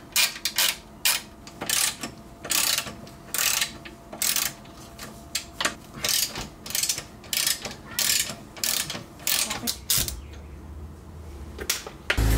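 A hand ratchet undoes 12mm sway bar bushing bolts on a Subaru WRX, a close series of quick rhythmic clicking strokes repeating in short bursts before stopping near the end.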